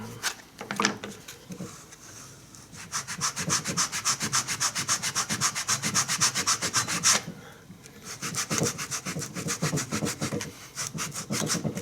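A drill-mounted sanding disc grinds against a rubbery minimalist boot sole in long rasping passes, scuffing it for resoling, pausing briefly between bursts, close and loud.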